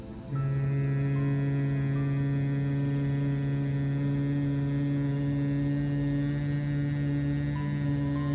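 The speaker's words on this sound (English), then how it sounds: "Now bring the chin down and do the hum." A person hums one long, steady, low tone on the exhale during a yoga breathing exercise for chronic lung disease. The hum is loud and close and carries on unbroken with no speech.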